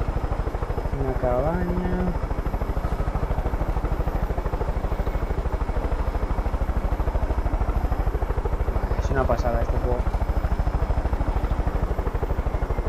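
Helicopter in the video game Far Cry 5, a constant loud rotor thump pulsing steadily throughout, with someone talking over it.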